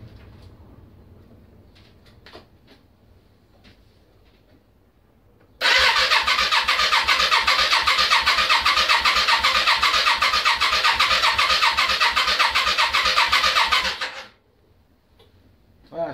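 A Yamaha Virago motorcycle engine cranks over on the starter with the front cylinder under a compression test, a fast, even, pulsing churn lasting about eight seconds, close and loud, after quiet clicks and handling noises.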